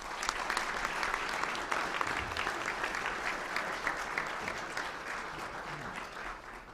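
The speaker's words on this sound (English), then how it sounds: "how about a round of applause?" A luncheon crowd at the National Press Club gives a round of applause, a full, even patter of many hands that tapers slightly toward the end.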